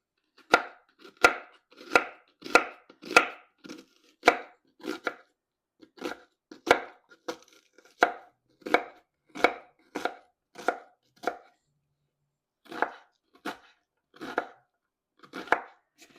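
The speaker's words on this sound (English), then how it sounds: "Now you're going to want to chop an onion up." A knife finely chops an onion on a cutting board, with crisp, evenly spaced close chops in quick runs separated by brief pauses.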